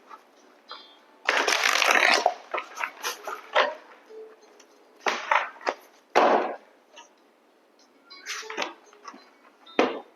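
Wisdom of the Angels tarot cards being shuffled by hand in several loud riffling bursts separated by short pauses and lighter taps, recorded close up with no talking.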